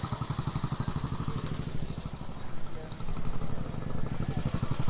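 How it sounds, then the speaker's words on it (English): A British BSA motorcycle engine runs steadily close by at a classic vehicle show, a throbbing low rumble with a pulsing beat that grows louder toward the end. "Almost an unmistakable sound of British motorcycles."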